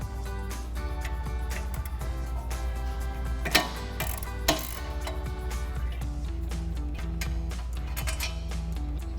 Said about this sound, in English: now we're going to remove the two 15mm bolts on the back